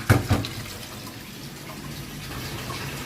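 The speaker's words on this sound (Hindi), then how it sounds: "ये लहसुन को ऐसे ही अच्छी तरह धो के" Garlic gets washed under running water: a couple of splashy knocks at the start, then a steady, even stream of tap water flowing for the rest, with no talking.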